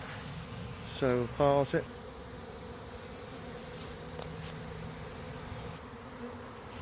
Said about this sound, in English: the sky around here was full of bees